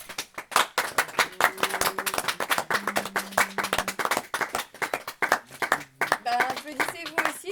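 Audience clapping after a poetry reading, a burst of dense, close hand claps that thins toward the end, with voices talking over it.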